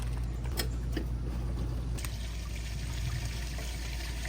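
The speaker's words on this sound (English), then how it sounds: "So I'm gonna go ahead and pull the gray now, just to make sure that everything is flowing." Gray water draining from an RV travel trailer's tank through a sewer hose, a steady continuous gush and trickle of flowing water with faint metallic clinks, heard close and alone.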